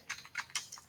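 Keystrokes on a computer keyboard while entering text in a Microsoft Word document, about four or five quick taps in under a second, close and fairly quiet with no talking.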